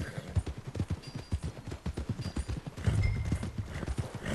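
Hooves of a horse clip-clop in a steady, brisk rhythm in Red Dead Redemption 2, close and fairly loud with no talking, with a slight surge near the end.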